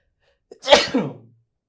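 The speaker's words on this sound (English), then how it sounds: "We have a sneeze at however many minutes in." A single loud sneeze with a short sharp intake followed by a forceful burst, close up, then silence.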